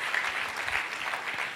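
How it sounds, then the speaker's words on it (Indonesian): Church congregation applauding during a sermon, steady dense clapping throughout with no voices over it. "Tepuk tangan sekali lagi ya buat Tuhan kita Yesus Kristus."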